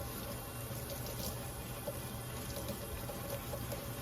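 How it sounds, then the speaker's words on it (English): Water runs at a low setting from a kitchen tap while a Dash Mini pizza maker is rinsed with a soapy sponge, a soft steady hiss that continues without a break. "put the water on low"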